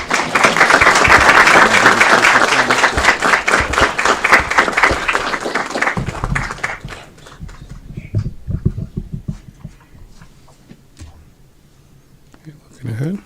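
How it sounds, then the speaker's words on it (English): An audience at a city council event honoring the Sikh community in Aurora bursts into loud applause that fades after about six seconds into scattered claps and murmuring, then a brief swell returns at the end. "Let's give them a round of applause."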